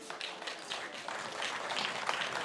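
An audience applauding young jazz musicians at an outdoor park music event, a faint, continuous patter of many hands clapping that swells slightly toward the end.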